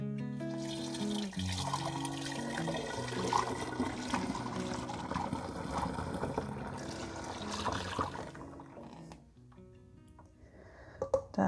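Nut milk pours through a small funnel into a half-gallon glass jar, a steady liquid stream with faint music underneath, ending with a few small clinks near the end.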